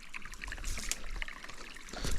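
Water trickles and splashes steadily in Kolob Creek, a canyon stream in Zion National Park, Utah, with soft dribbling close by and a gentle rise in flow toward the end.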